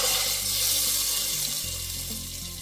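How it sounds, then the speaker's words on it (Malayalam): Hot tempering of mustard seeds, curry leaves and red chillies is poured into sambar, giving a brief loud hiss and splashing sizzle that eases slightly over a few seconds. "ഇനി ഇത് സാമ്പാറിലേക്ക് ഒഴിക്കാം."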